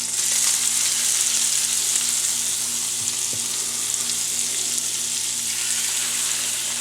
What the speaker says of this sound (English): we are going to take our catfish fillets and lay them in the pan